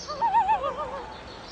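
A single wavering, warbling bird call in Minnesota woods, fairly near and clear, rising and falling for about a second before fading.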